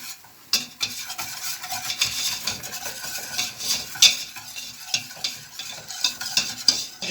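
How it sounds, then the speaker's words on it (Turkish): Flour is stirred and toasted with butter in a pan, giving a continuous soft sizzle under repeated scraping strokes and sharp clicks of a utensil against the metal, close and unaccompanied by speech. "Şimdi unumuzu kavuruyoruz."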